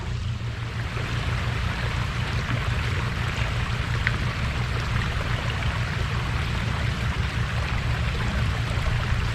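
Water flows out of a pond into a creek with a constant, loud rushing wash and a steady low rumble, unbroken for the whole stretch, with no voices.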